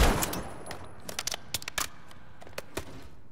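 Gunfire in the video game Call of Duty Warzone MW3: a crackling burst opens, then a scattered run of sharp, fairly loud shots spaced unevenly across the rest.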